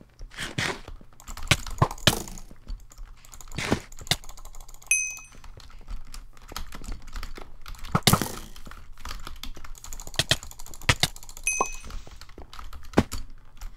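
Rapid butterfly clicking on a computer mouse during a block-hitting game battle, sharp irregular clicks in quick bursts, close and fairly loud, with no talk.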